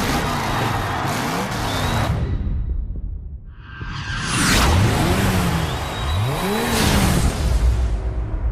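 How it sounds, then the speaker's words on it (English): A Dodge Viper tearing through the streets of San Francisco in the racing game GRID: loud engine revving and rising gear pulls, whooshing past, a brief lull, then hard acceleration with shifting pitch sweeps. "driving a Dodge Viper around the streets of San Francisco"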